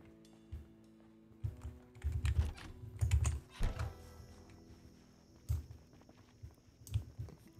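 Computer keyboard and mouse clicks come in scattered bursts, close and fairly soft, with irregular pauses between clusters over a faint steady hum.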